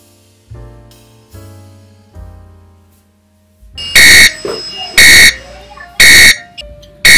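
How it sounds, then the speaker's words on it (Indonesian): TradingView indicator alert alarm on a one-minute scalping chart, sounding as loud, sharp repeated electronic beeps in a regular pattern after a few softer tones, close and dominant. "Oke, alarmnya berbunyi ya."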